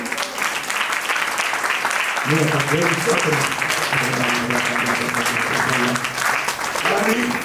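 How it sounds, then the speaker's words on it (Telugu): A church congregation at Sunday worship applauds in a steady, dense wash of clapping that lasts throughout. Sustained voice or music tones rise over the applause partway through. "అందరూ చప్పట్లు ఒకసారి"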